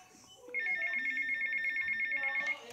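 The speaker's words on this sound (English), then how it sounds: "Oh, there's a phone call right here." A phone rings inside a PS4 video game set around a mansion: a steady, pulsing electronic ringtone starts about half a second in and holds at an even level until near the end over quiet game background.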